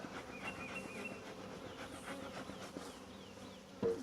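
Honeybees buzzing at the entrance of a newly set up hive, a steady close hum of many insects throughout, with a brief louder bump near the end.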